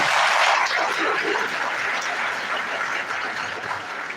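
Audience applause fills a hall at a medical laboratory science graduates' induction ceremony, honouring a head of department: a dense, steady wash of many hands clapping, fairly loud and sustained throughout, easing slightly toward the end.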